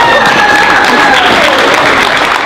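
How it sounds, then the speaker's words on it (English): Audience applause at a Gowns For Grads fashion show in a theatre, a dense and loud wash of clapping, with a faint tonal hum or music line running underneath throughout. "a big round of applause for these girls"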